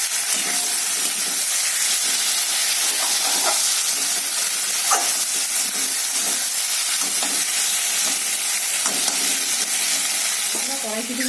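Vegetables, including green peas and eggplant, fry in a kadai for rohu fish curry, giving a loud, steady sizzle with occasional stirring scrapes close by, unbroken and without talk.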